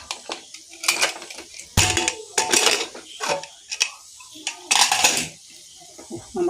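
Metal clanks and rattles of a pressure cooker lid being handled and opened after its whistle, with duck curry cooking inside; several sharp bursts of clatter, close and loud, with brief quiet gaps between.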